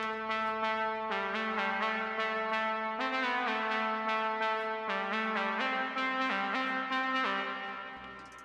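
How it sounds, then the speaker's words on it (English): A sustained horn-like synth melody with stepping notes and echoing tails, steady and fairly loud, fading slightly at the end. "the last one we have is another horn"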